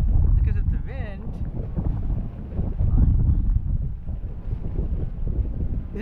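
Strong wind blows over the ocean and buffets the microphone with a loud, gusting low rumble from a boat at sea. Faint tonal squeaks sound early on.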